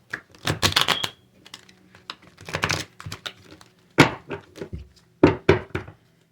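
Bursts of rapid riffling clicks as a tarot deck is shuffled, several quick rounds with short pauses between, close by and with no talking.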